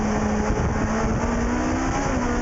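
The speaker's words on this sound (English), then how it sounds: "we could just hear the car wheels spinning up as it comes through Clark Corner there" A legend race car roars past through a corner with a steady, loud engine drone and rising tire whine as the wheels spin up, continuous throughout with no pauses.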